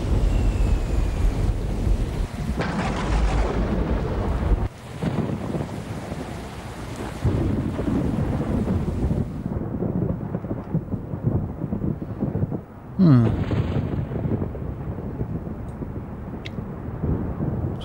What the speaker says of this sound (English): With thunder and lightning.